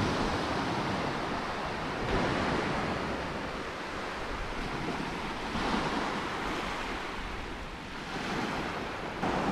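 Sea waves wash in steadily on a beach below cliffs and rocks, with broad rolling surges of surf and some wind noise across the microphone, and no talking.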